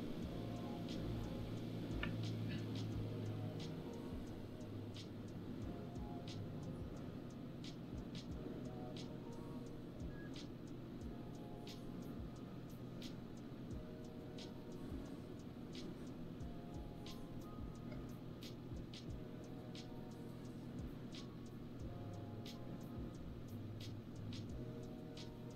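Steady airplane engine drone from a simulated aircraft in Microsoft Flight Simulator, flying from CYYZ toward KROC, a constant mid-level hum with faint regular ticking running throughout.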